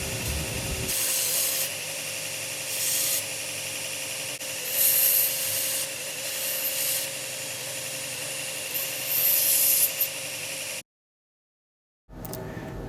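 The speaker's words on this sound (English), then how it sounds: "Here I'm using an old coarse file to actually put in some of the finer contours of the" An old coarse file rasps over a wooden knife handle as it shapes the contours, repeated back-and-forth strokes that are close and steady under a constant hum, with a brief silent gap near the end.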